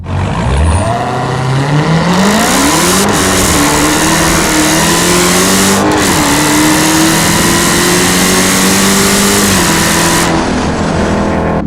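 A 2015 Dodge Charger Hellcat engine roars loudly as it accelerates in manual mode, pitch climbing and dropping with several rapid gear shifts in quick succession.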